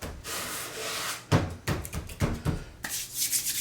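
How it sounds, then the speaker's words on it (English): A Scandi-ground knife blade drawn across a new sheet of sandpaper, several short rasping strokes close by, each a brief gritty scrape separated by small pauses. "What we're doing on a Scandi grind is we're just pinching the grind against the sandpaper"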